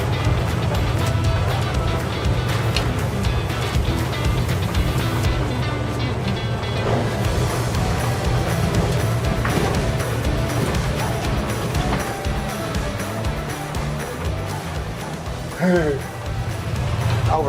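A 1957 Dodge Sweptside D100 pickup drives in second gear, its engine a steady low drone under wind and road rumble, with someone speaking inside the cab.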